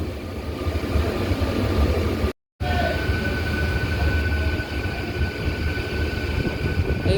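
An EMU local train running as the Howrah to Digha summer special rumbles and roars steadily from on board. The noise is continuous and loud, broken only by a split-second dropout, and no one speaks.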